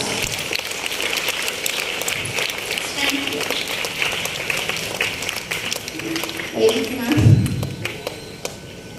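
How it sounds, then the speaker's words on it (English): An audience at a school event applauds students called onto the stage, a steady bed of clapping with shuffling and a few thuds, while a voice talks over it near the end. "all of you give them a big round of applause"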